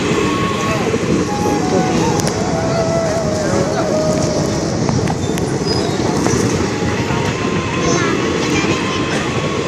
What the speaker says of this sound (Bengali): এই দেখো রেল ফটকে দাঁড়িয়ে রয়েছে